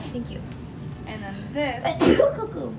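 A single sharp sneeze bursts out near the end, close and loud, amid casual talking.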